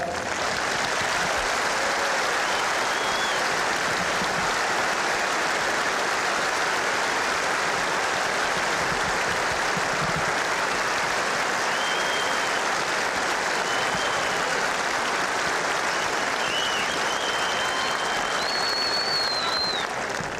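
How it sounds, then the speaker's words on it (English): Long, sustained applause from a large tennis audience after a 1990 Cincinnati match, dense and even from start to finish, with a few faint whistles and cheers poking through. "That applause took longer than the match."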